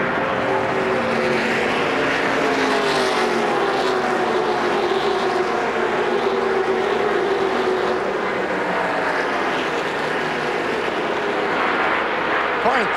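NASCAR Busch Series race cars at Daytona International Speedway in 2002 roar as they accelerate at the green flag, a loud sustained engine drone swelling and shifting, with commentary over it.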